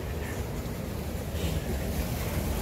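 Water gushes steadily from a mini golf course water feature, a loud continuous rushing and splashing wash with no pauses, close to the microphone.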